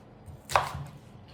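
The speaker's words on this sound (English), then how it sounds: "I'm gonna be using my favorite product, the manual food processor, of course, and gonna get the onion chopped nice and small" Onion being chopped in a manual food processor, a single quiet chop with a short bright crunch against a faint background.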